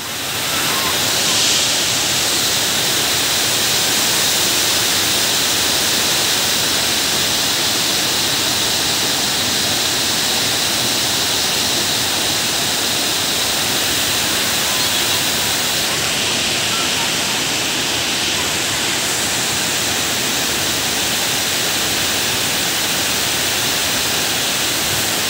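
Waterfall at Samudralingapuram with reduced flow, its water rushing in a loud, steady, broadband roar that fills the whole stretch without a break.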